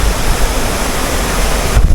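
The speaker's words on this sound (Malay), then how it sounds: "sungai ni memang mengalir sini satu and then lagi satu sebelah sana" A river flows beside a campsite near the Lata Perahu waterfall, a close, loud and steady broadband rush of water with no voices over it.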